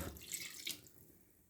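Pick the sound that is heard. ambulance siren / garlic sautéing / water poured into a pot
water poured into a pot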